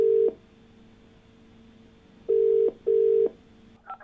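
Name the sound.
telephone line ringing while connecting to a caller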